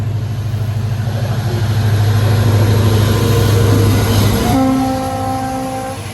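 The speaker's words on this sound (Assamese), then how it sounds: "আপোনালোকৰ শব্দ শুনা পাইছে চাগে ট্ৰেইনটো আহি আছে" A passenger train running between Guwahati and Lakhimpur rumbles past a rail crossing close by, loud and continuous, with a sustained horn blast near the end as it recedes.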